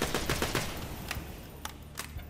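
Automatic fire from a held trigger in Borderlands 2, a fast steady burst of gunshots at the start that thins into scattered, spaced shots over a couple of seconds, with no talking.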